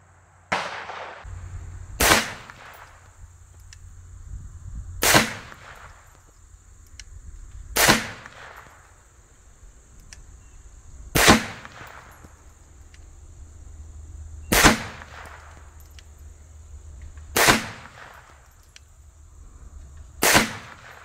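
Seven sharp gunshots from CCI Blazer rounds fired at an outdoor target ring out at a slow, uneven pace about two to three seconds apart, each loud and close with a short echoing tail.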